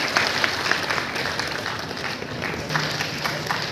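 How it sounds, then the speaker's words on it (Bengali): An audience at a cultural celebration in honour of Dr. Syama Prasad's 125th birth anniversary claps steadily, a broad, continuous round of applause, with faint speech underneath. "একটু জোরে করতালি চেয়ে নিচ্ছি সকলের কাছ থেকে"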